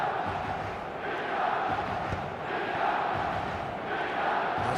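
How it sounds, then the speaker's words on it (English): Stadium crowd in an eFootball Premier League match, a steady dense roar of cheering and chanting swelling in waves throughout, with no commentary over it. "Certainly gave this crowd something to really cheer about."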